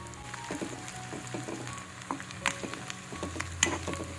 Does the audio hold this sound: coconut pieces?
yes